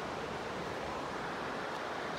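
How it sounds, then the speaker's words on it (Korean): A stream flows in Hadong, a continuous broad rush of water that stays steady and close throughout, with no voices. "시내 물소리는 휴야장층 끊이지 않고 이렇게 벚꽃이 피든가 지든가 상관없이 흘러만 갑니다."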